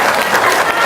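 Audience applause fills the whole moment, dense and steady, a broad wash of many hands clapping together without a break.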